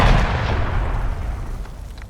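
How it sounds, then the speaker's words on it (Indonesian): Deep rumbling booms of heavy cannon fire rolling together, loud and sustained, fading slowly into a low roar. "gemuruh suara meriam"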